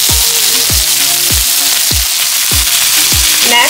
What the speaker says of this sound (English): Now I'm going to go in with one and a half tablespoons of butter.